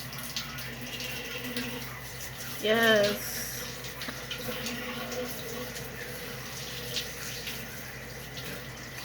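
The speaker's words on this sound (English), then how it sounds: "I'm just going to fill her up there, and I just pour a little bit at a time." Warm filtered or bottled water poured a little at a time into a jar, a steady running trickle with a brief louder gurgle partway through, close, while a person talks.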